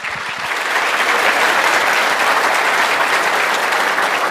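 Loud, sustained applause from a conference audience greeting two speakers before a software talk, dense steady clapping that swells in the first half-second and holds for about four seconds without voices.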